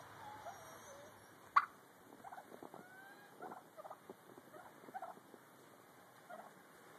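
Faint, distant turkeys gobbling and chattering in short bursts over a low outdoor hiss, with one sharp click or tap near the start.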